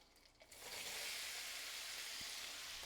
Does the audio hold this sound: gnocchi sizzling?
yes